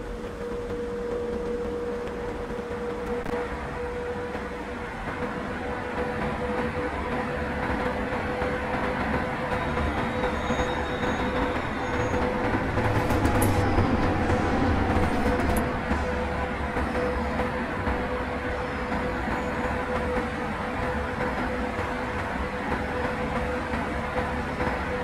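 Express passenger train in Transport Fever 2 heard from the cab, with a steady rolling rumble and hiss, a constant tonal whine and a slight swell midway.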